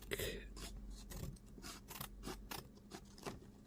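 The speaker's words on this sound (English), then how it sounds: "now you'd want to cut in, I guess, 4 sides, not cutting all the way" Scissors snip repeatedly through the sides of a gift box, a series of close, crisp cuts coming in an uneven rhythm with brief pauses between strokes.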